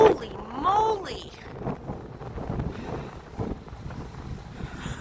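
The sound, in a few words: cold winter wind on Toronto street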